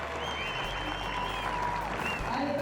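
Big crowd applauding steadily at Numia's Hippodrome rally stage in New Caledonia, a dense continuous clatter of clapping with murmuring voices mixed in throughout.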